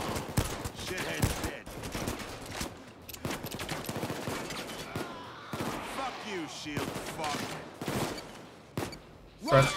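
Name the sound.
gunfire in the video game Payday 2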